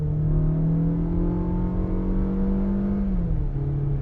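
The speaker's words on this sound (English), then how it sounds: "So I'm going to put my foot down quickly, just driving normal." A 2025 Opel Grandland GS Line accelerates hard from inside the cabin, its engine note rising in a smooth climbing whine over road rumble, then dropping briefly as it shifts near the end; no talk.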